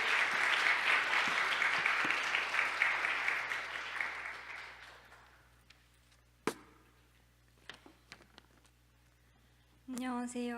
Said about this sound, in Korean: 먼저 우리 은정자매 나올 때를 박수로 격려하도록 하겠습니다